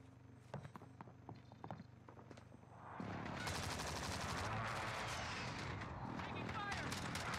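Gunfire in the shooter game Warzone bursts in after quieter footsteps and clatter, turning into a sustained, dense stream of rapid automatic shots that fills the rest of the moment at close range.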